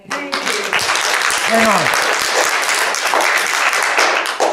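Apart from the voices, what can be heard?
audience applause at a council meeting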